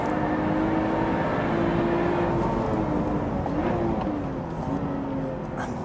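A Lotus Evora Sport 410 sports car accelerating on a race track, a sustained engine drone with a steady pitch that shifts slightly as it pulls, under wind and road noise throughout.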